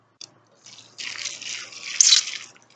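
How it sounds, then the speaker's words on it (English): A plastic water gun dipped into water and its plunger drawn back, giving a short splash, then a soft gurgling, sucking rush of water that swells for about two seconds before trailing off, close up and alone. "You just stick it in water, pull this back"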